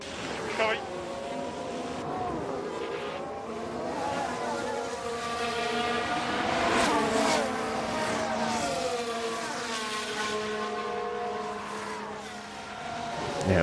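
A Formula 1 race car engine in the F1 Manager 23 video game whines at low speed with rising and falling tones, while someone talks over the game sound.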